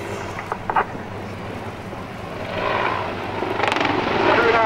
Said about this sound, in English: We're now repositioning the aircraft using a 360-degree return to target.